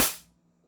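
A KP19 airsoft pistol fires a single sharp shot through a chronograph, a loud close pop that decays quickly into near silence.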